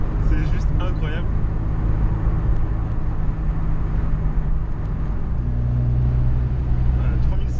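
A Ford Sierra RS Cosworth's turbocharged engine drones and builds under load as the turbo comes on around 3000–3500 rpm, a loud in-cabin roar with the gear and pitch steady, while someone talks over it.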